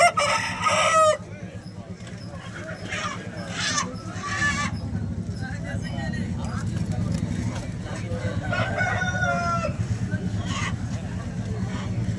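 A native rooster at a Vijayawada Sunday poultry market crows loudly at the start and again later, amid steady crowd chatter and people talking nearby.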